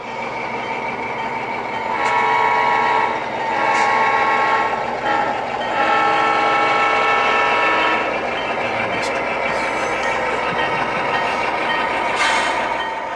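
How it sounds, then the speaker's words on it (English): An HO scale model train made up of BN F-units, an Alco C-424 and a BR rat rolls steadily past on a model railroad, with a continuous rumble and a few horn blasts rising above it. "Same train coming through downtown Seattle."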